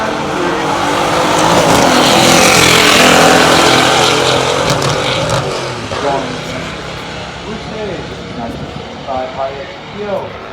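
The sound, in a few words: 1968 Hurst/Olds and 1965 GTO drag racing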